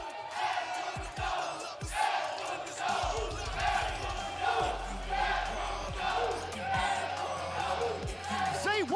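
A wrestling arena crowd at a Memphis Wrestling show roars and cheers continuously as a wrestler enters and high-fives fans, with loud shouts and thuds throughout at a distance.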